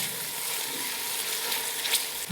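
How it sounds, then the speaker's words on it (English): Ginger garlic paste fries in a pan for a chicken curry, giving a continuous close sizzle with a faint stirring scrape near the end. "And now I'm going to add the ginger garlic paste in it. Stir it. Fry for about a minute."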